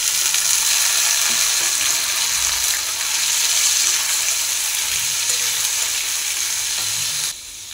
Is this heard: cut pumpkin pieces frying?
yes